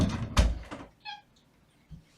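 A mother cat that has recently given birth lets out a single short meow, fairly close, after a few soft thumps. Another faint low sound follows near the end.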